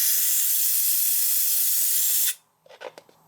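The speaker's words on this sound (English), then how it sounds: "So I've just switched the compressor on," An air compressor blows air through a spray line in a loud, continuous hiss that cuts off abruptly, followed by a few faint clicks and knocks.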